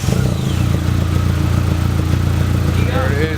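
Nissan KA24 engine from an S14 fitted in an S13, with exhaust manifold smoking off spilled oil, running at a steady loud idle with a dense rumbling pulse; a voice briefly sounds near the end.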